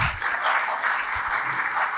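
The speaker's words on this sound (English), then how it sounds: "A huge round of applause for ma'am, please." An audience claps together in a short, steady burst of applause at an orientation event, filling the room evenly for about two seconds.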